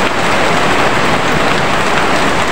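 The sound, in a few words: heavy rain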